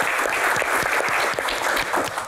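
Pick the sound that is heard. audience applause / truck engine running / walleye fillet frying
audience applause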